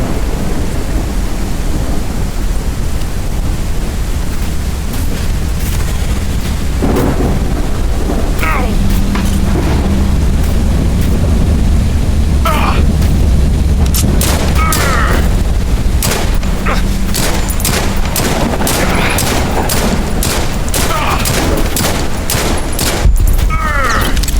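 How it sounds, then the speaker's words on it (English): Rapid gunfire and booming explosions of gas canisters in the space combat game Spacebourne 2, loud and dense, with repeated sharp bursts over a heavy rumbling bed throughout. "Now go and shoot the gas canisters until they catch fire."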